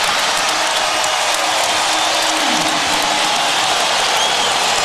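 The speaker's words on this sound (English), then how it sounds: "Now you can see this crowd, Dan. Phil Jackson likened it to attending a rock concert and having your ears ring." A loud basketball arena crowd roars in a continuous wall of cheering and applause during a 2009 playoff first-round game, steady and dense for the whole stretch.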